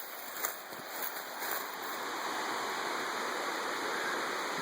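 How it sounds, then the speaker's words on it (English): Rushing water from a nearby waterfall forms a loud, continuous broadband roar that swells slightly at first, then holds steady, drowning out other sound. "It's becoming really hard to hear the beeps from the receiver because of the sound of the water"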